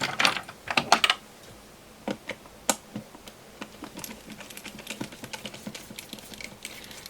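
A Fluke 107 multimeter case being opened with a screwdriver, a run of close, small plastic clicks and taps, bunched at first and then sparser and quieter.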